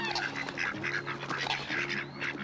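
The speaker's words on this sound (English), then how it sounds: "There are lots of ducks on the farm." Ducks on a farm by a pond, a flock quacking and honking in overlapping bursts over a steady low hum, moderately close and continuous.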